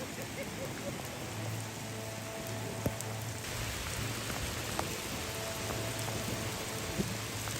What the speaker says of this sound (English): a hailstorm transformed the road into a shimmering river of ice